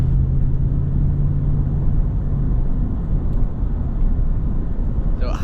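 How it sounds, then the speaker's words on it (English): A Ford F-250 Super Duty pickup with a V8 engine pulls away slowly under light throttle, giving a steady, loud, deep engine rumble heard from inside the cab with no break. "Now as we pull out, slowly get on the gas, you can really start to hear the low rumble of the V8."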